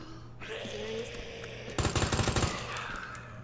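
Rapid SMG fire from Resident Evil 2 rattles out in a dense, loud automatic burst of tightly spaced shots lasting under a second, over steady game background sound.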